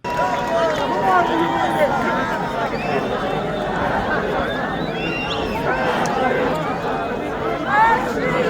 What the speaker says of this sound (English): the crowd was so big, I couldn't even hear the speeches